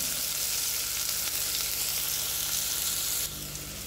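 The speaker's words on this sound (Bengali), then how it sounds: "পেঁয়াজটাকে হালকা ব্রাউন করে নেবো আমি।" Onions fry and brown in hot oil for a Mughlai mutton curry, a loud, close, continuous hiss and sizzle that drops slightly in level near the end, with no speech.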